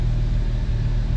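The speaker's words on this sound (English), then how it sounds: "It's got a very healthy idle, right between 850 and 1000 RPMs." A 1966 Jaguar E-Type Series I idles steadily at 850 to 1000 RPM, giving a close, even low rumble with no speech over it.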